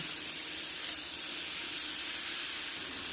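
Tomato, green chili and ginger frying in a pan, giving a steady, close sizzling hiss that runs evenly throughout without pauses.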